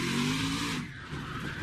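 A NASCAR Xfinity race car spins backwards after striking a barrier during practice on the Roval road course, with a loud, steady engine drone and tire noise that thins out partway through as the car slides.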